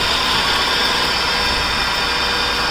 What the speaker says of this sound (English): And this alternator is running.